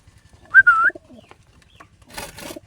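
In a pigeon loft, a single brief coo rises near and clear, followed by faint soft rustling and scattered quiet bird sounds.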